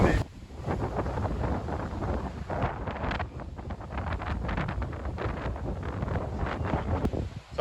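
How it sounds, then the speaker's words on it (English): Strong outdoor wind buffets a microphone, producing loud, continuous low rumbling gusts that rise and fall for several seconds with no clear voices. "it's still super windy"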